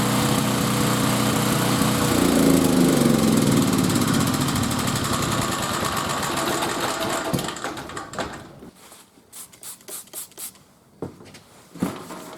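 A generator engine, long kept in storage, drones loudly and steadily, then its pitch sags and sputters as the fuel runs out, ending in a few weak coughs before dying.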